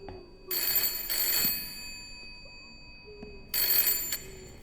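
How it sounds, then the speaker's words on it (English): Telephone in the video game Layers of Fear ringing, with two rapid bell trills close together and a third after a quiet gap, clear and moderately loud against faint ambience. "Oh, the phone's gone."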